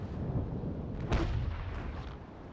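A ship's cannon broadside in the Naval Action naval battle game: one heavy, deep boom over a constant low rumble of battle noise.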